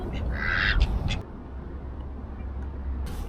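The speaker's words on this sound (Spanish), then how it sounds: "Duck." Duckling quacking outdoors, a short high call near the start over steady background rumble, then quieter ambience.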